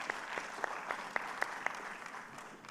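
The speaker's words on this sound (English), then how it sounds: "Okay, a round of applause to him as he goes to" A conference audience applauds a presenter, a faint, distant patter of many hands with a few sharper individual claps standing out as it tapers off.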